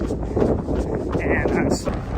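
Cold wind gusting across the microphone on a morning trail run, a rough close rumble that rises and falls under a speaking voice.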